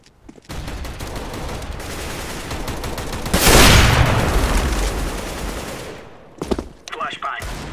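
Gunfire and a grenade explosion from Counter-Strike: Global Offensive gameplay, with continuous rattling shots, a loud boom bursting about a third of the way in and trailing off, then scattered sharper shots near the end.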